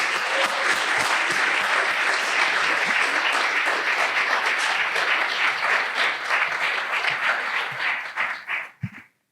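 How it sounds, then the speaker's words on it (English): Sustained audience applause at a physician assistant studies awards ceremony, a loud, dense roar of clapping that holds steady for several seconds, then thins and fades out near the end. "Let's give them a round of applause one more time,"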